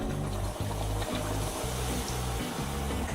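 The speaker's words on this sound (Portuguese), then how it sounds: "E agora vamos adicionar 200 ml de água." Two hundred millilitres of water poured into a hot pot of stirred chouriço, giving a loud, continuous hiss and sizzle with a watery rush underneath, steady for a few seconds with no talking.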